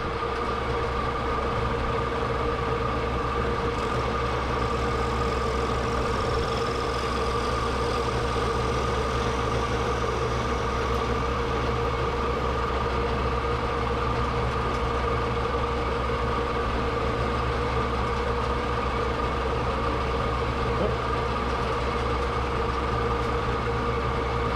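A machine cutting with a Seiko non-ferrous insert at about 1,000 RPM makes a steady, unbroken droning hum with constant tonal whine throughout, loud and even, with no voices.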